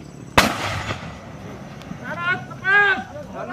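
A mortar fires once during a US and Indonesian Marines Keris Marine exercise, a sharp close blast followed by a fading rumble, then voices shout outdoors.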